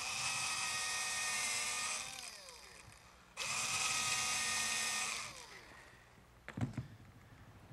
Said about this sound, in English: But first I'm going to have to drill a pilot hole for the screws